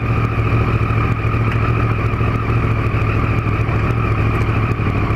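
A 2014 Triumph Street Triple R motorcycle engine running steadily at a loud, close idle with a constant throbbing hum and no talking.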